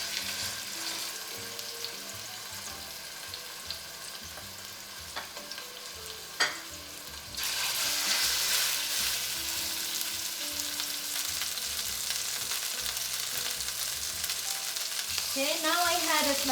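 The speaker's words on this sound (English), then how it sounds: "So into this, I will add the pork chop, and I will sear each side for about 3 to 4 minutes." A pork chop searing in a hot pan for Pork Caprese, with steady sizzling and frying throughout that jumps noticeably louder about halfway in and stays strong to the end, with a few utensil clicks.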